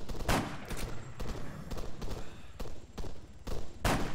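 Rapid gunfire in Arma 3 Altis Life, repeated sharp loud shots and bursts crackling every half second or so, close and dense, with no voices.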